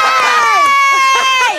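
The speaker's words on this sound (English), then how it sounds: "Come on, right, everyone, after 3, just cheer." A group of housemates cheers together in one loud, sustained shout of many overlapping voices, close and bright, lasting the whole moment.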